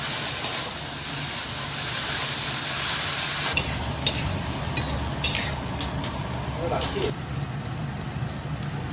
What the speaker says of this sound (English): Heat oil in the wok. Quick stir-fry some wild celery.